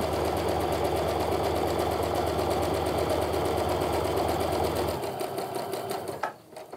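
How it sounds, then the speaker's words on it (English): A sewing machine chain pieces quilt block pieces for a Supernova block. It gives a fast, loud, steady close stitching rattle for about five seconds, then slows and stops with a few softer mechanical clicks, and no one speaks. "That's how you are going to sew your 2 at a time and also chain piece them to speed everything up."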